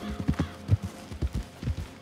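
Horse hooves in Red Dead Redemption 2, a quick uneven clip-clop of hoofbeats at a canter, close and moderately loud, with faint game ambience under them.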